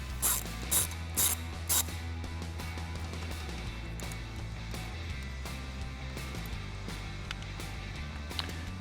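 A ratchet with a 10mm socket tightens the ground nut while a Barricade HD off-road front bumper with LED fog lights is fitted to a 2021-2022 Ford F-150. Brisk clicking pawl strokes come in short bursts over a steady low hum, close and fairly quiet.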